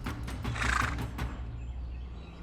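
A horse whinnies as a king pulls back on its reins in an animated Hindi folk tale. It gives one shrill, fairly close neigh that fades out over a low background rumble, with no voices.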